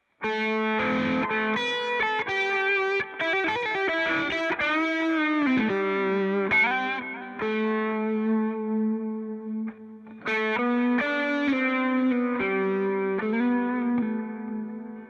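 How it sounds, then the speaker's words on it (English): Sustained electric guitar notes and chords played through a Spark 2 amp ring out with a spacious reverb tail, played alone with brief gaps between phrases. "Finally, let's get the reverb on"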